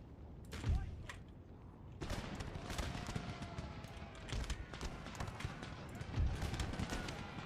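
A musket volley in the Empire Total War game crackles as scattered shots and sharp bursts across a busy battlefield, with sounds overlapping in a dense stream under a voice.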